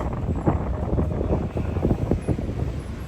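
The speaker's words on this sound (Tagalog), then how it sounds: "Napakalakas ng hangin." Strong wind by the Pasig River buffets the microphone in rough, low rumbling gusts that rise and fall continuously, with no voices.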